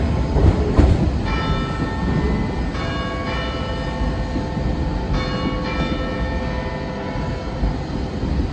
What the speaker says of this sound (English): So we'll see the train on its way.